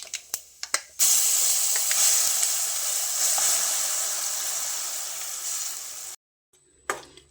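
Ground masala paste hits a hot pan of fried urad dal for ottu shavige, bursting into a loud, steady sizzling hiss that lasts about five seconds after a few sharp clicks, then cuts off abruptly.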